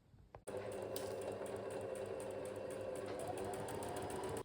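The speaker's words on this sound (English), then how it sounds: "I'm going to sew them up together using the 1" A sewing machine runs in one continuous, steady burst while sewing the lining seam of a dress, starting right after a brief click and going on without pauses.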